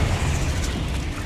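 A Bombarda blasting spell exploding in the Hogwarts Legacy video game, a loud, dense, rumbling blast that fills the whole short moment, with no talk.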